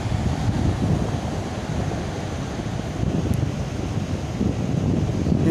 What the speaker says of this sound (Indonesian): Ini anginnya sangat kencang sekali